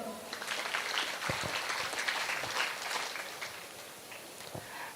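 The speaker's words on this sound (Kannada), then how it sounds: "ಚಪ್ಪಾಳೆ ತಟ್ಟಕ್ಕೆ ಬರುತ್ತಾ?" Audience at a college inauguration function clapping together, a dense moderate-volume patter of many hands that holds for several seconds then thins out slightly.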